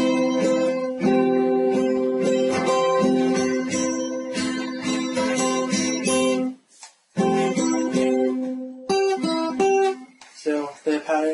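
Guitar strums a chord pattern up close, repeated down and up strokes ringing out with a brief pause partway, then a few picked notes at the end.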